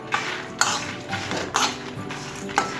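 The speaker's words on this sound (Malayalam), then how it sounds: "ഇളക്കി കൊടുക്കുക." A spoon scrapes and clinks against a pan while a spicy lentil mix is stirred, giving four or five sharp metallic knocks at roughly even intervals with a soft scraping rustle between them, close and with no talking.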